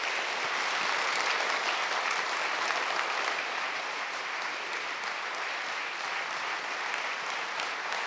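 A large audience at an award ceremony claps steadily and densely for about eight seconds without pause, the applause loud and even, with no voices rising above it.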